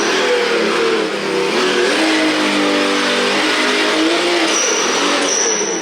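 A Capo JK Max all-metal RC Jeep crawler with air ride runs steadily, its small motor whining and rising in pitch as it drives in top gear, loud and continuous throughout.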